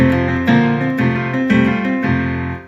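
A sustained keyboard instrument, close and loud with no voices, plays a short chord progression in F: a chord, a suspended fourth, back to the chord, then a suspended second, about half a second apart.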